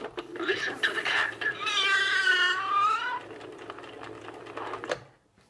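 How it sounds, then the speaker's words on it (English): A 1989 Mattel See 'n Say farm toy plays its recorded cat meow, a drawn-out wavering call following a short spoken phrase from the toy, clear and close. "Listen to the cat."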